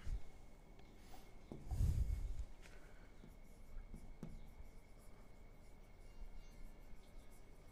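Marker or chalk writing on a classroom board during a maths lesson, faint scratchy strokes at an uneven pace with a brief louder bump, close and quiet, no voice over it.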